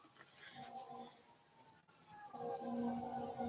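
An ambulance siren outside, heard faint and distant through a room as a rising, wavering wail that grows somewhat louder toward the end.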